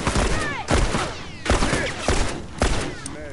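Video game gunfire in bursts, several loud close volleys of rapid shots at regular intervals with ringing tails.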